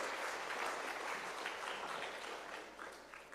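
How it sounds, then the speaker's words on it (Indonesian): An audience applauds after a speaker named Pak Lo finishes a stock market presentation at a university event in Jakarta, a steady dense clapping that stays fairly even and then thins slightly toward the end. "Tepuk tangan untuk Pak Lo"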